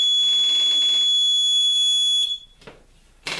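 A homemade low primer alarm buzzer for a reloading press sounds a loud, steady, high electronic tone for about two seconds, then cuts off, followed by a few faint clicks and a brief noisy burst close by.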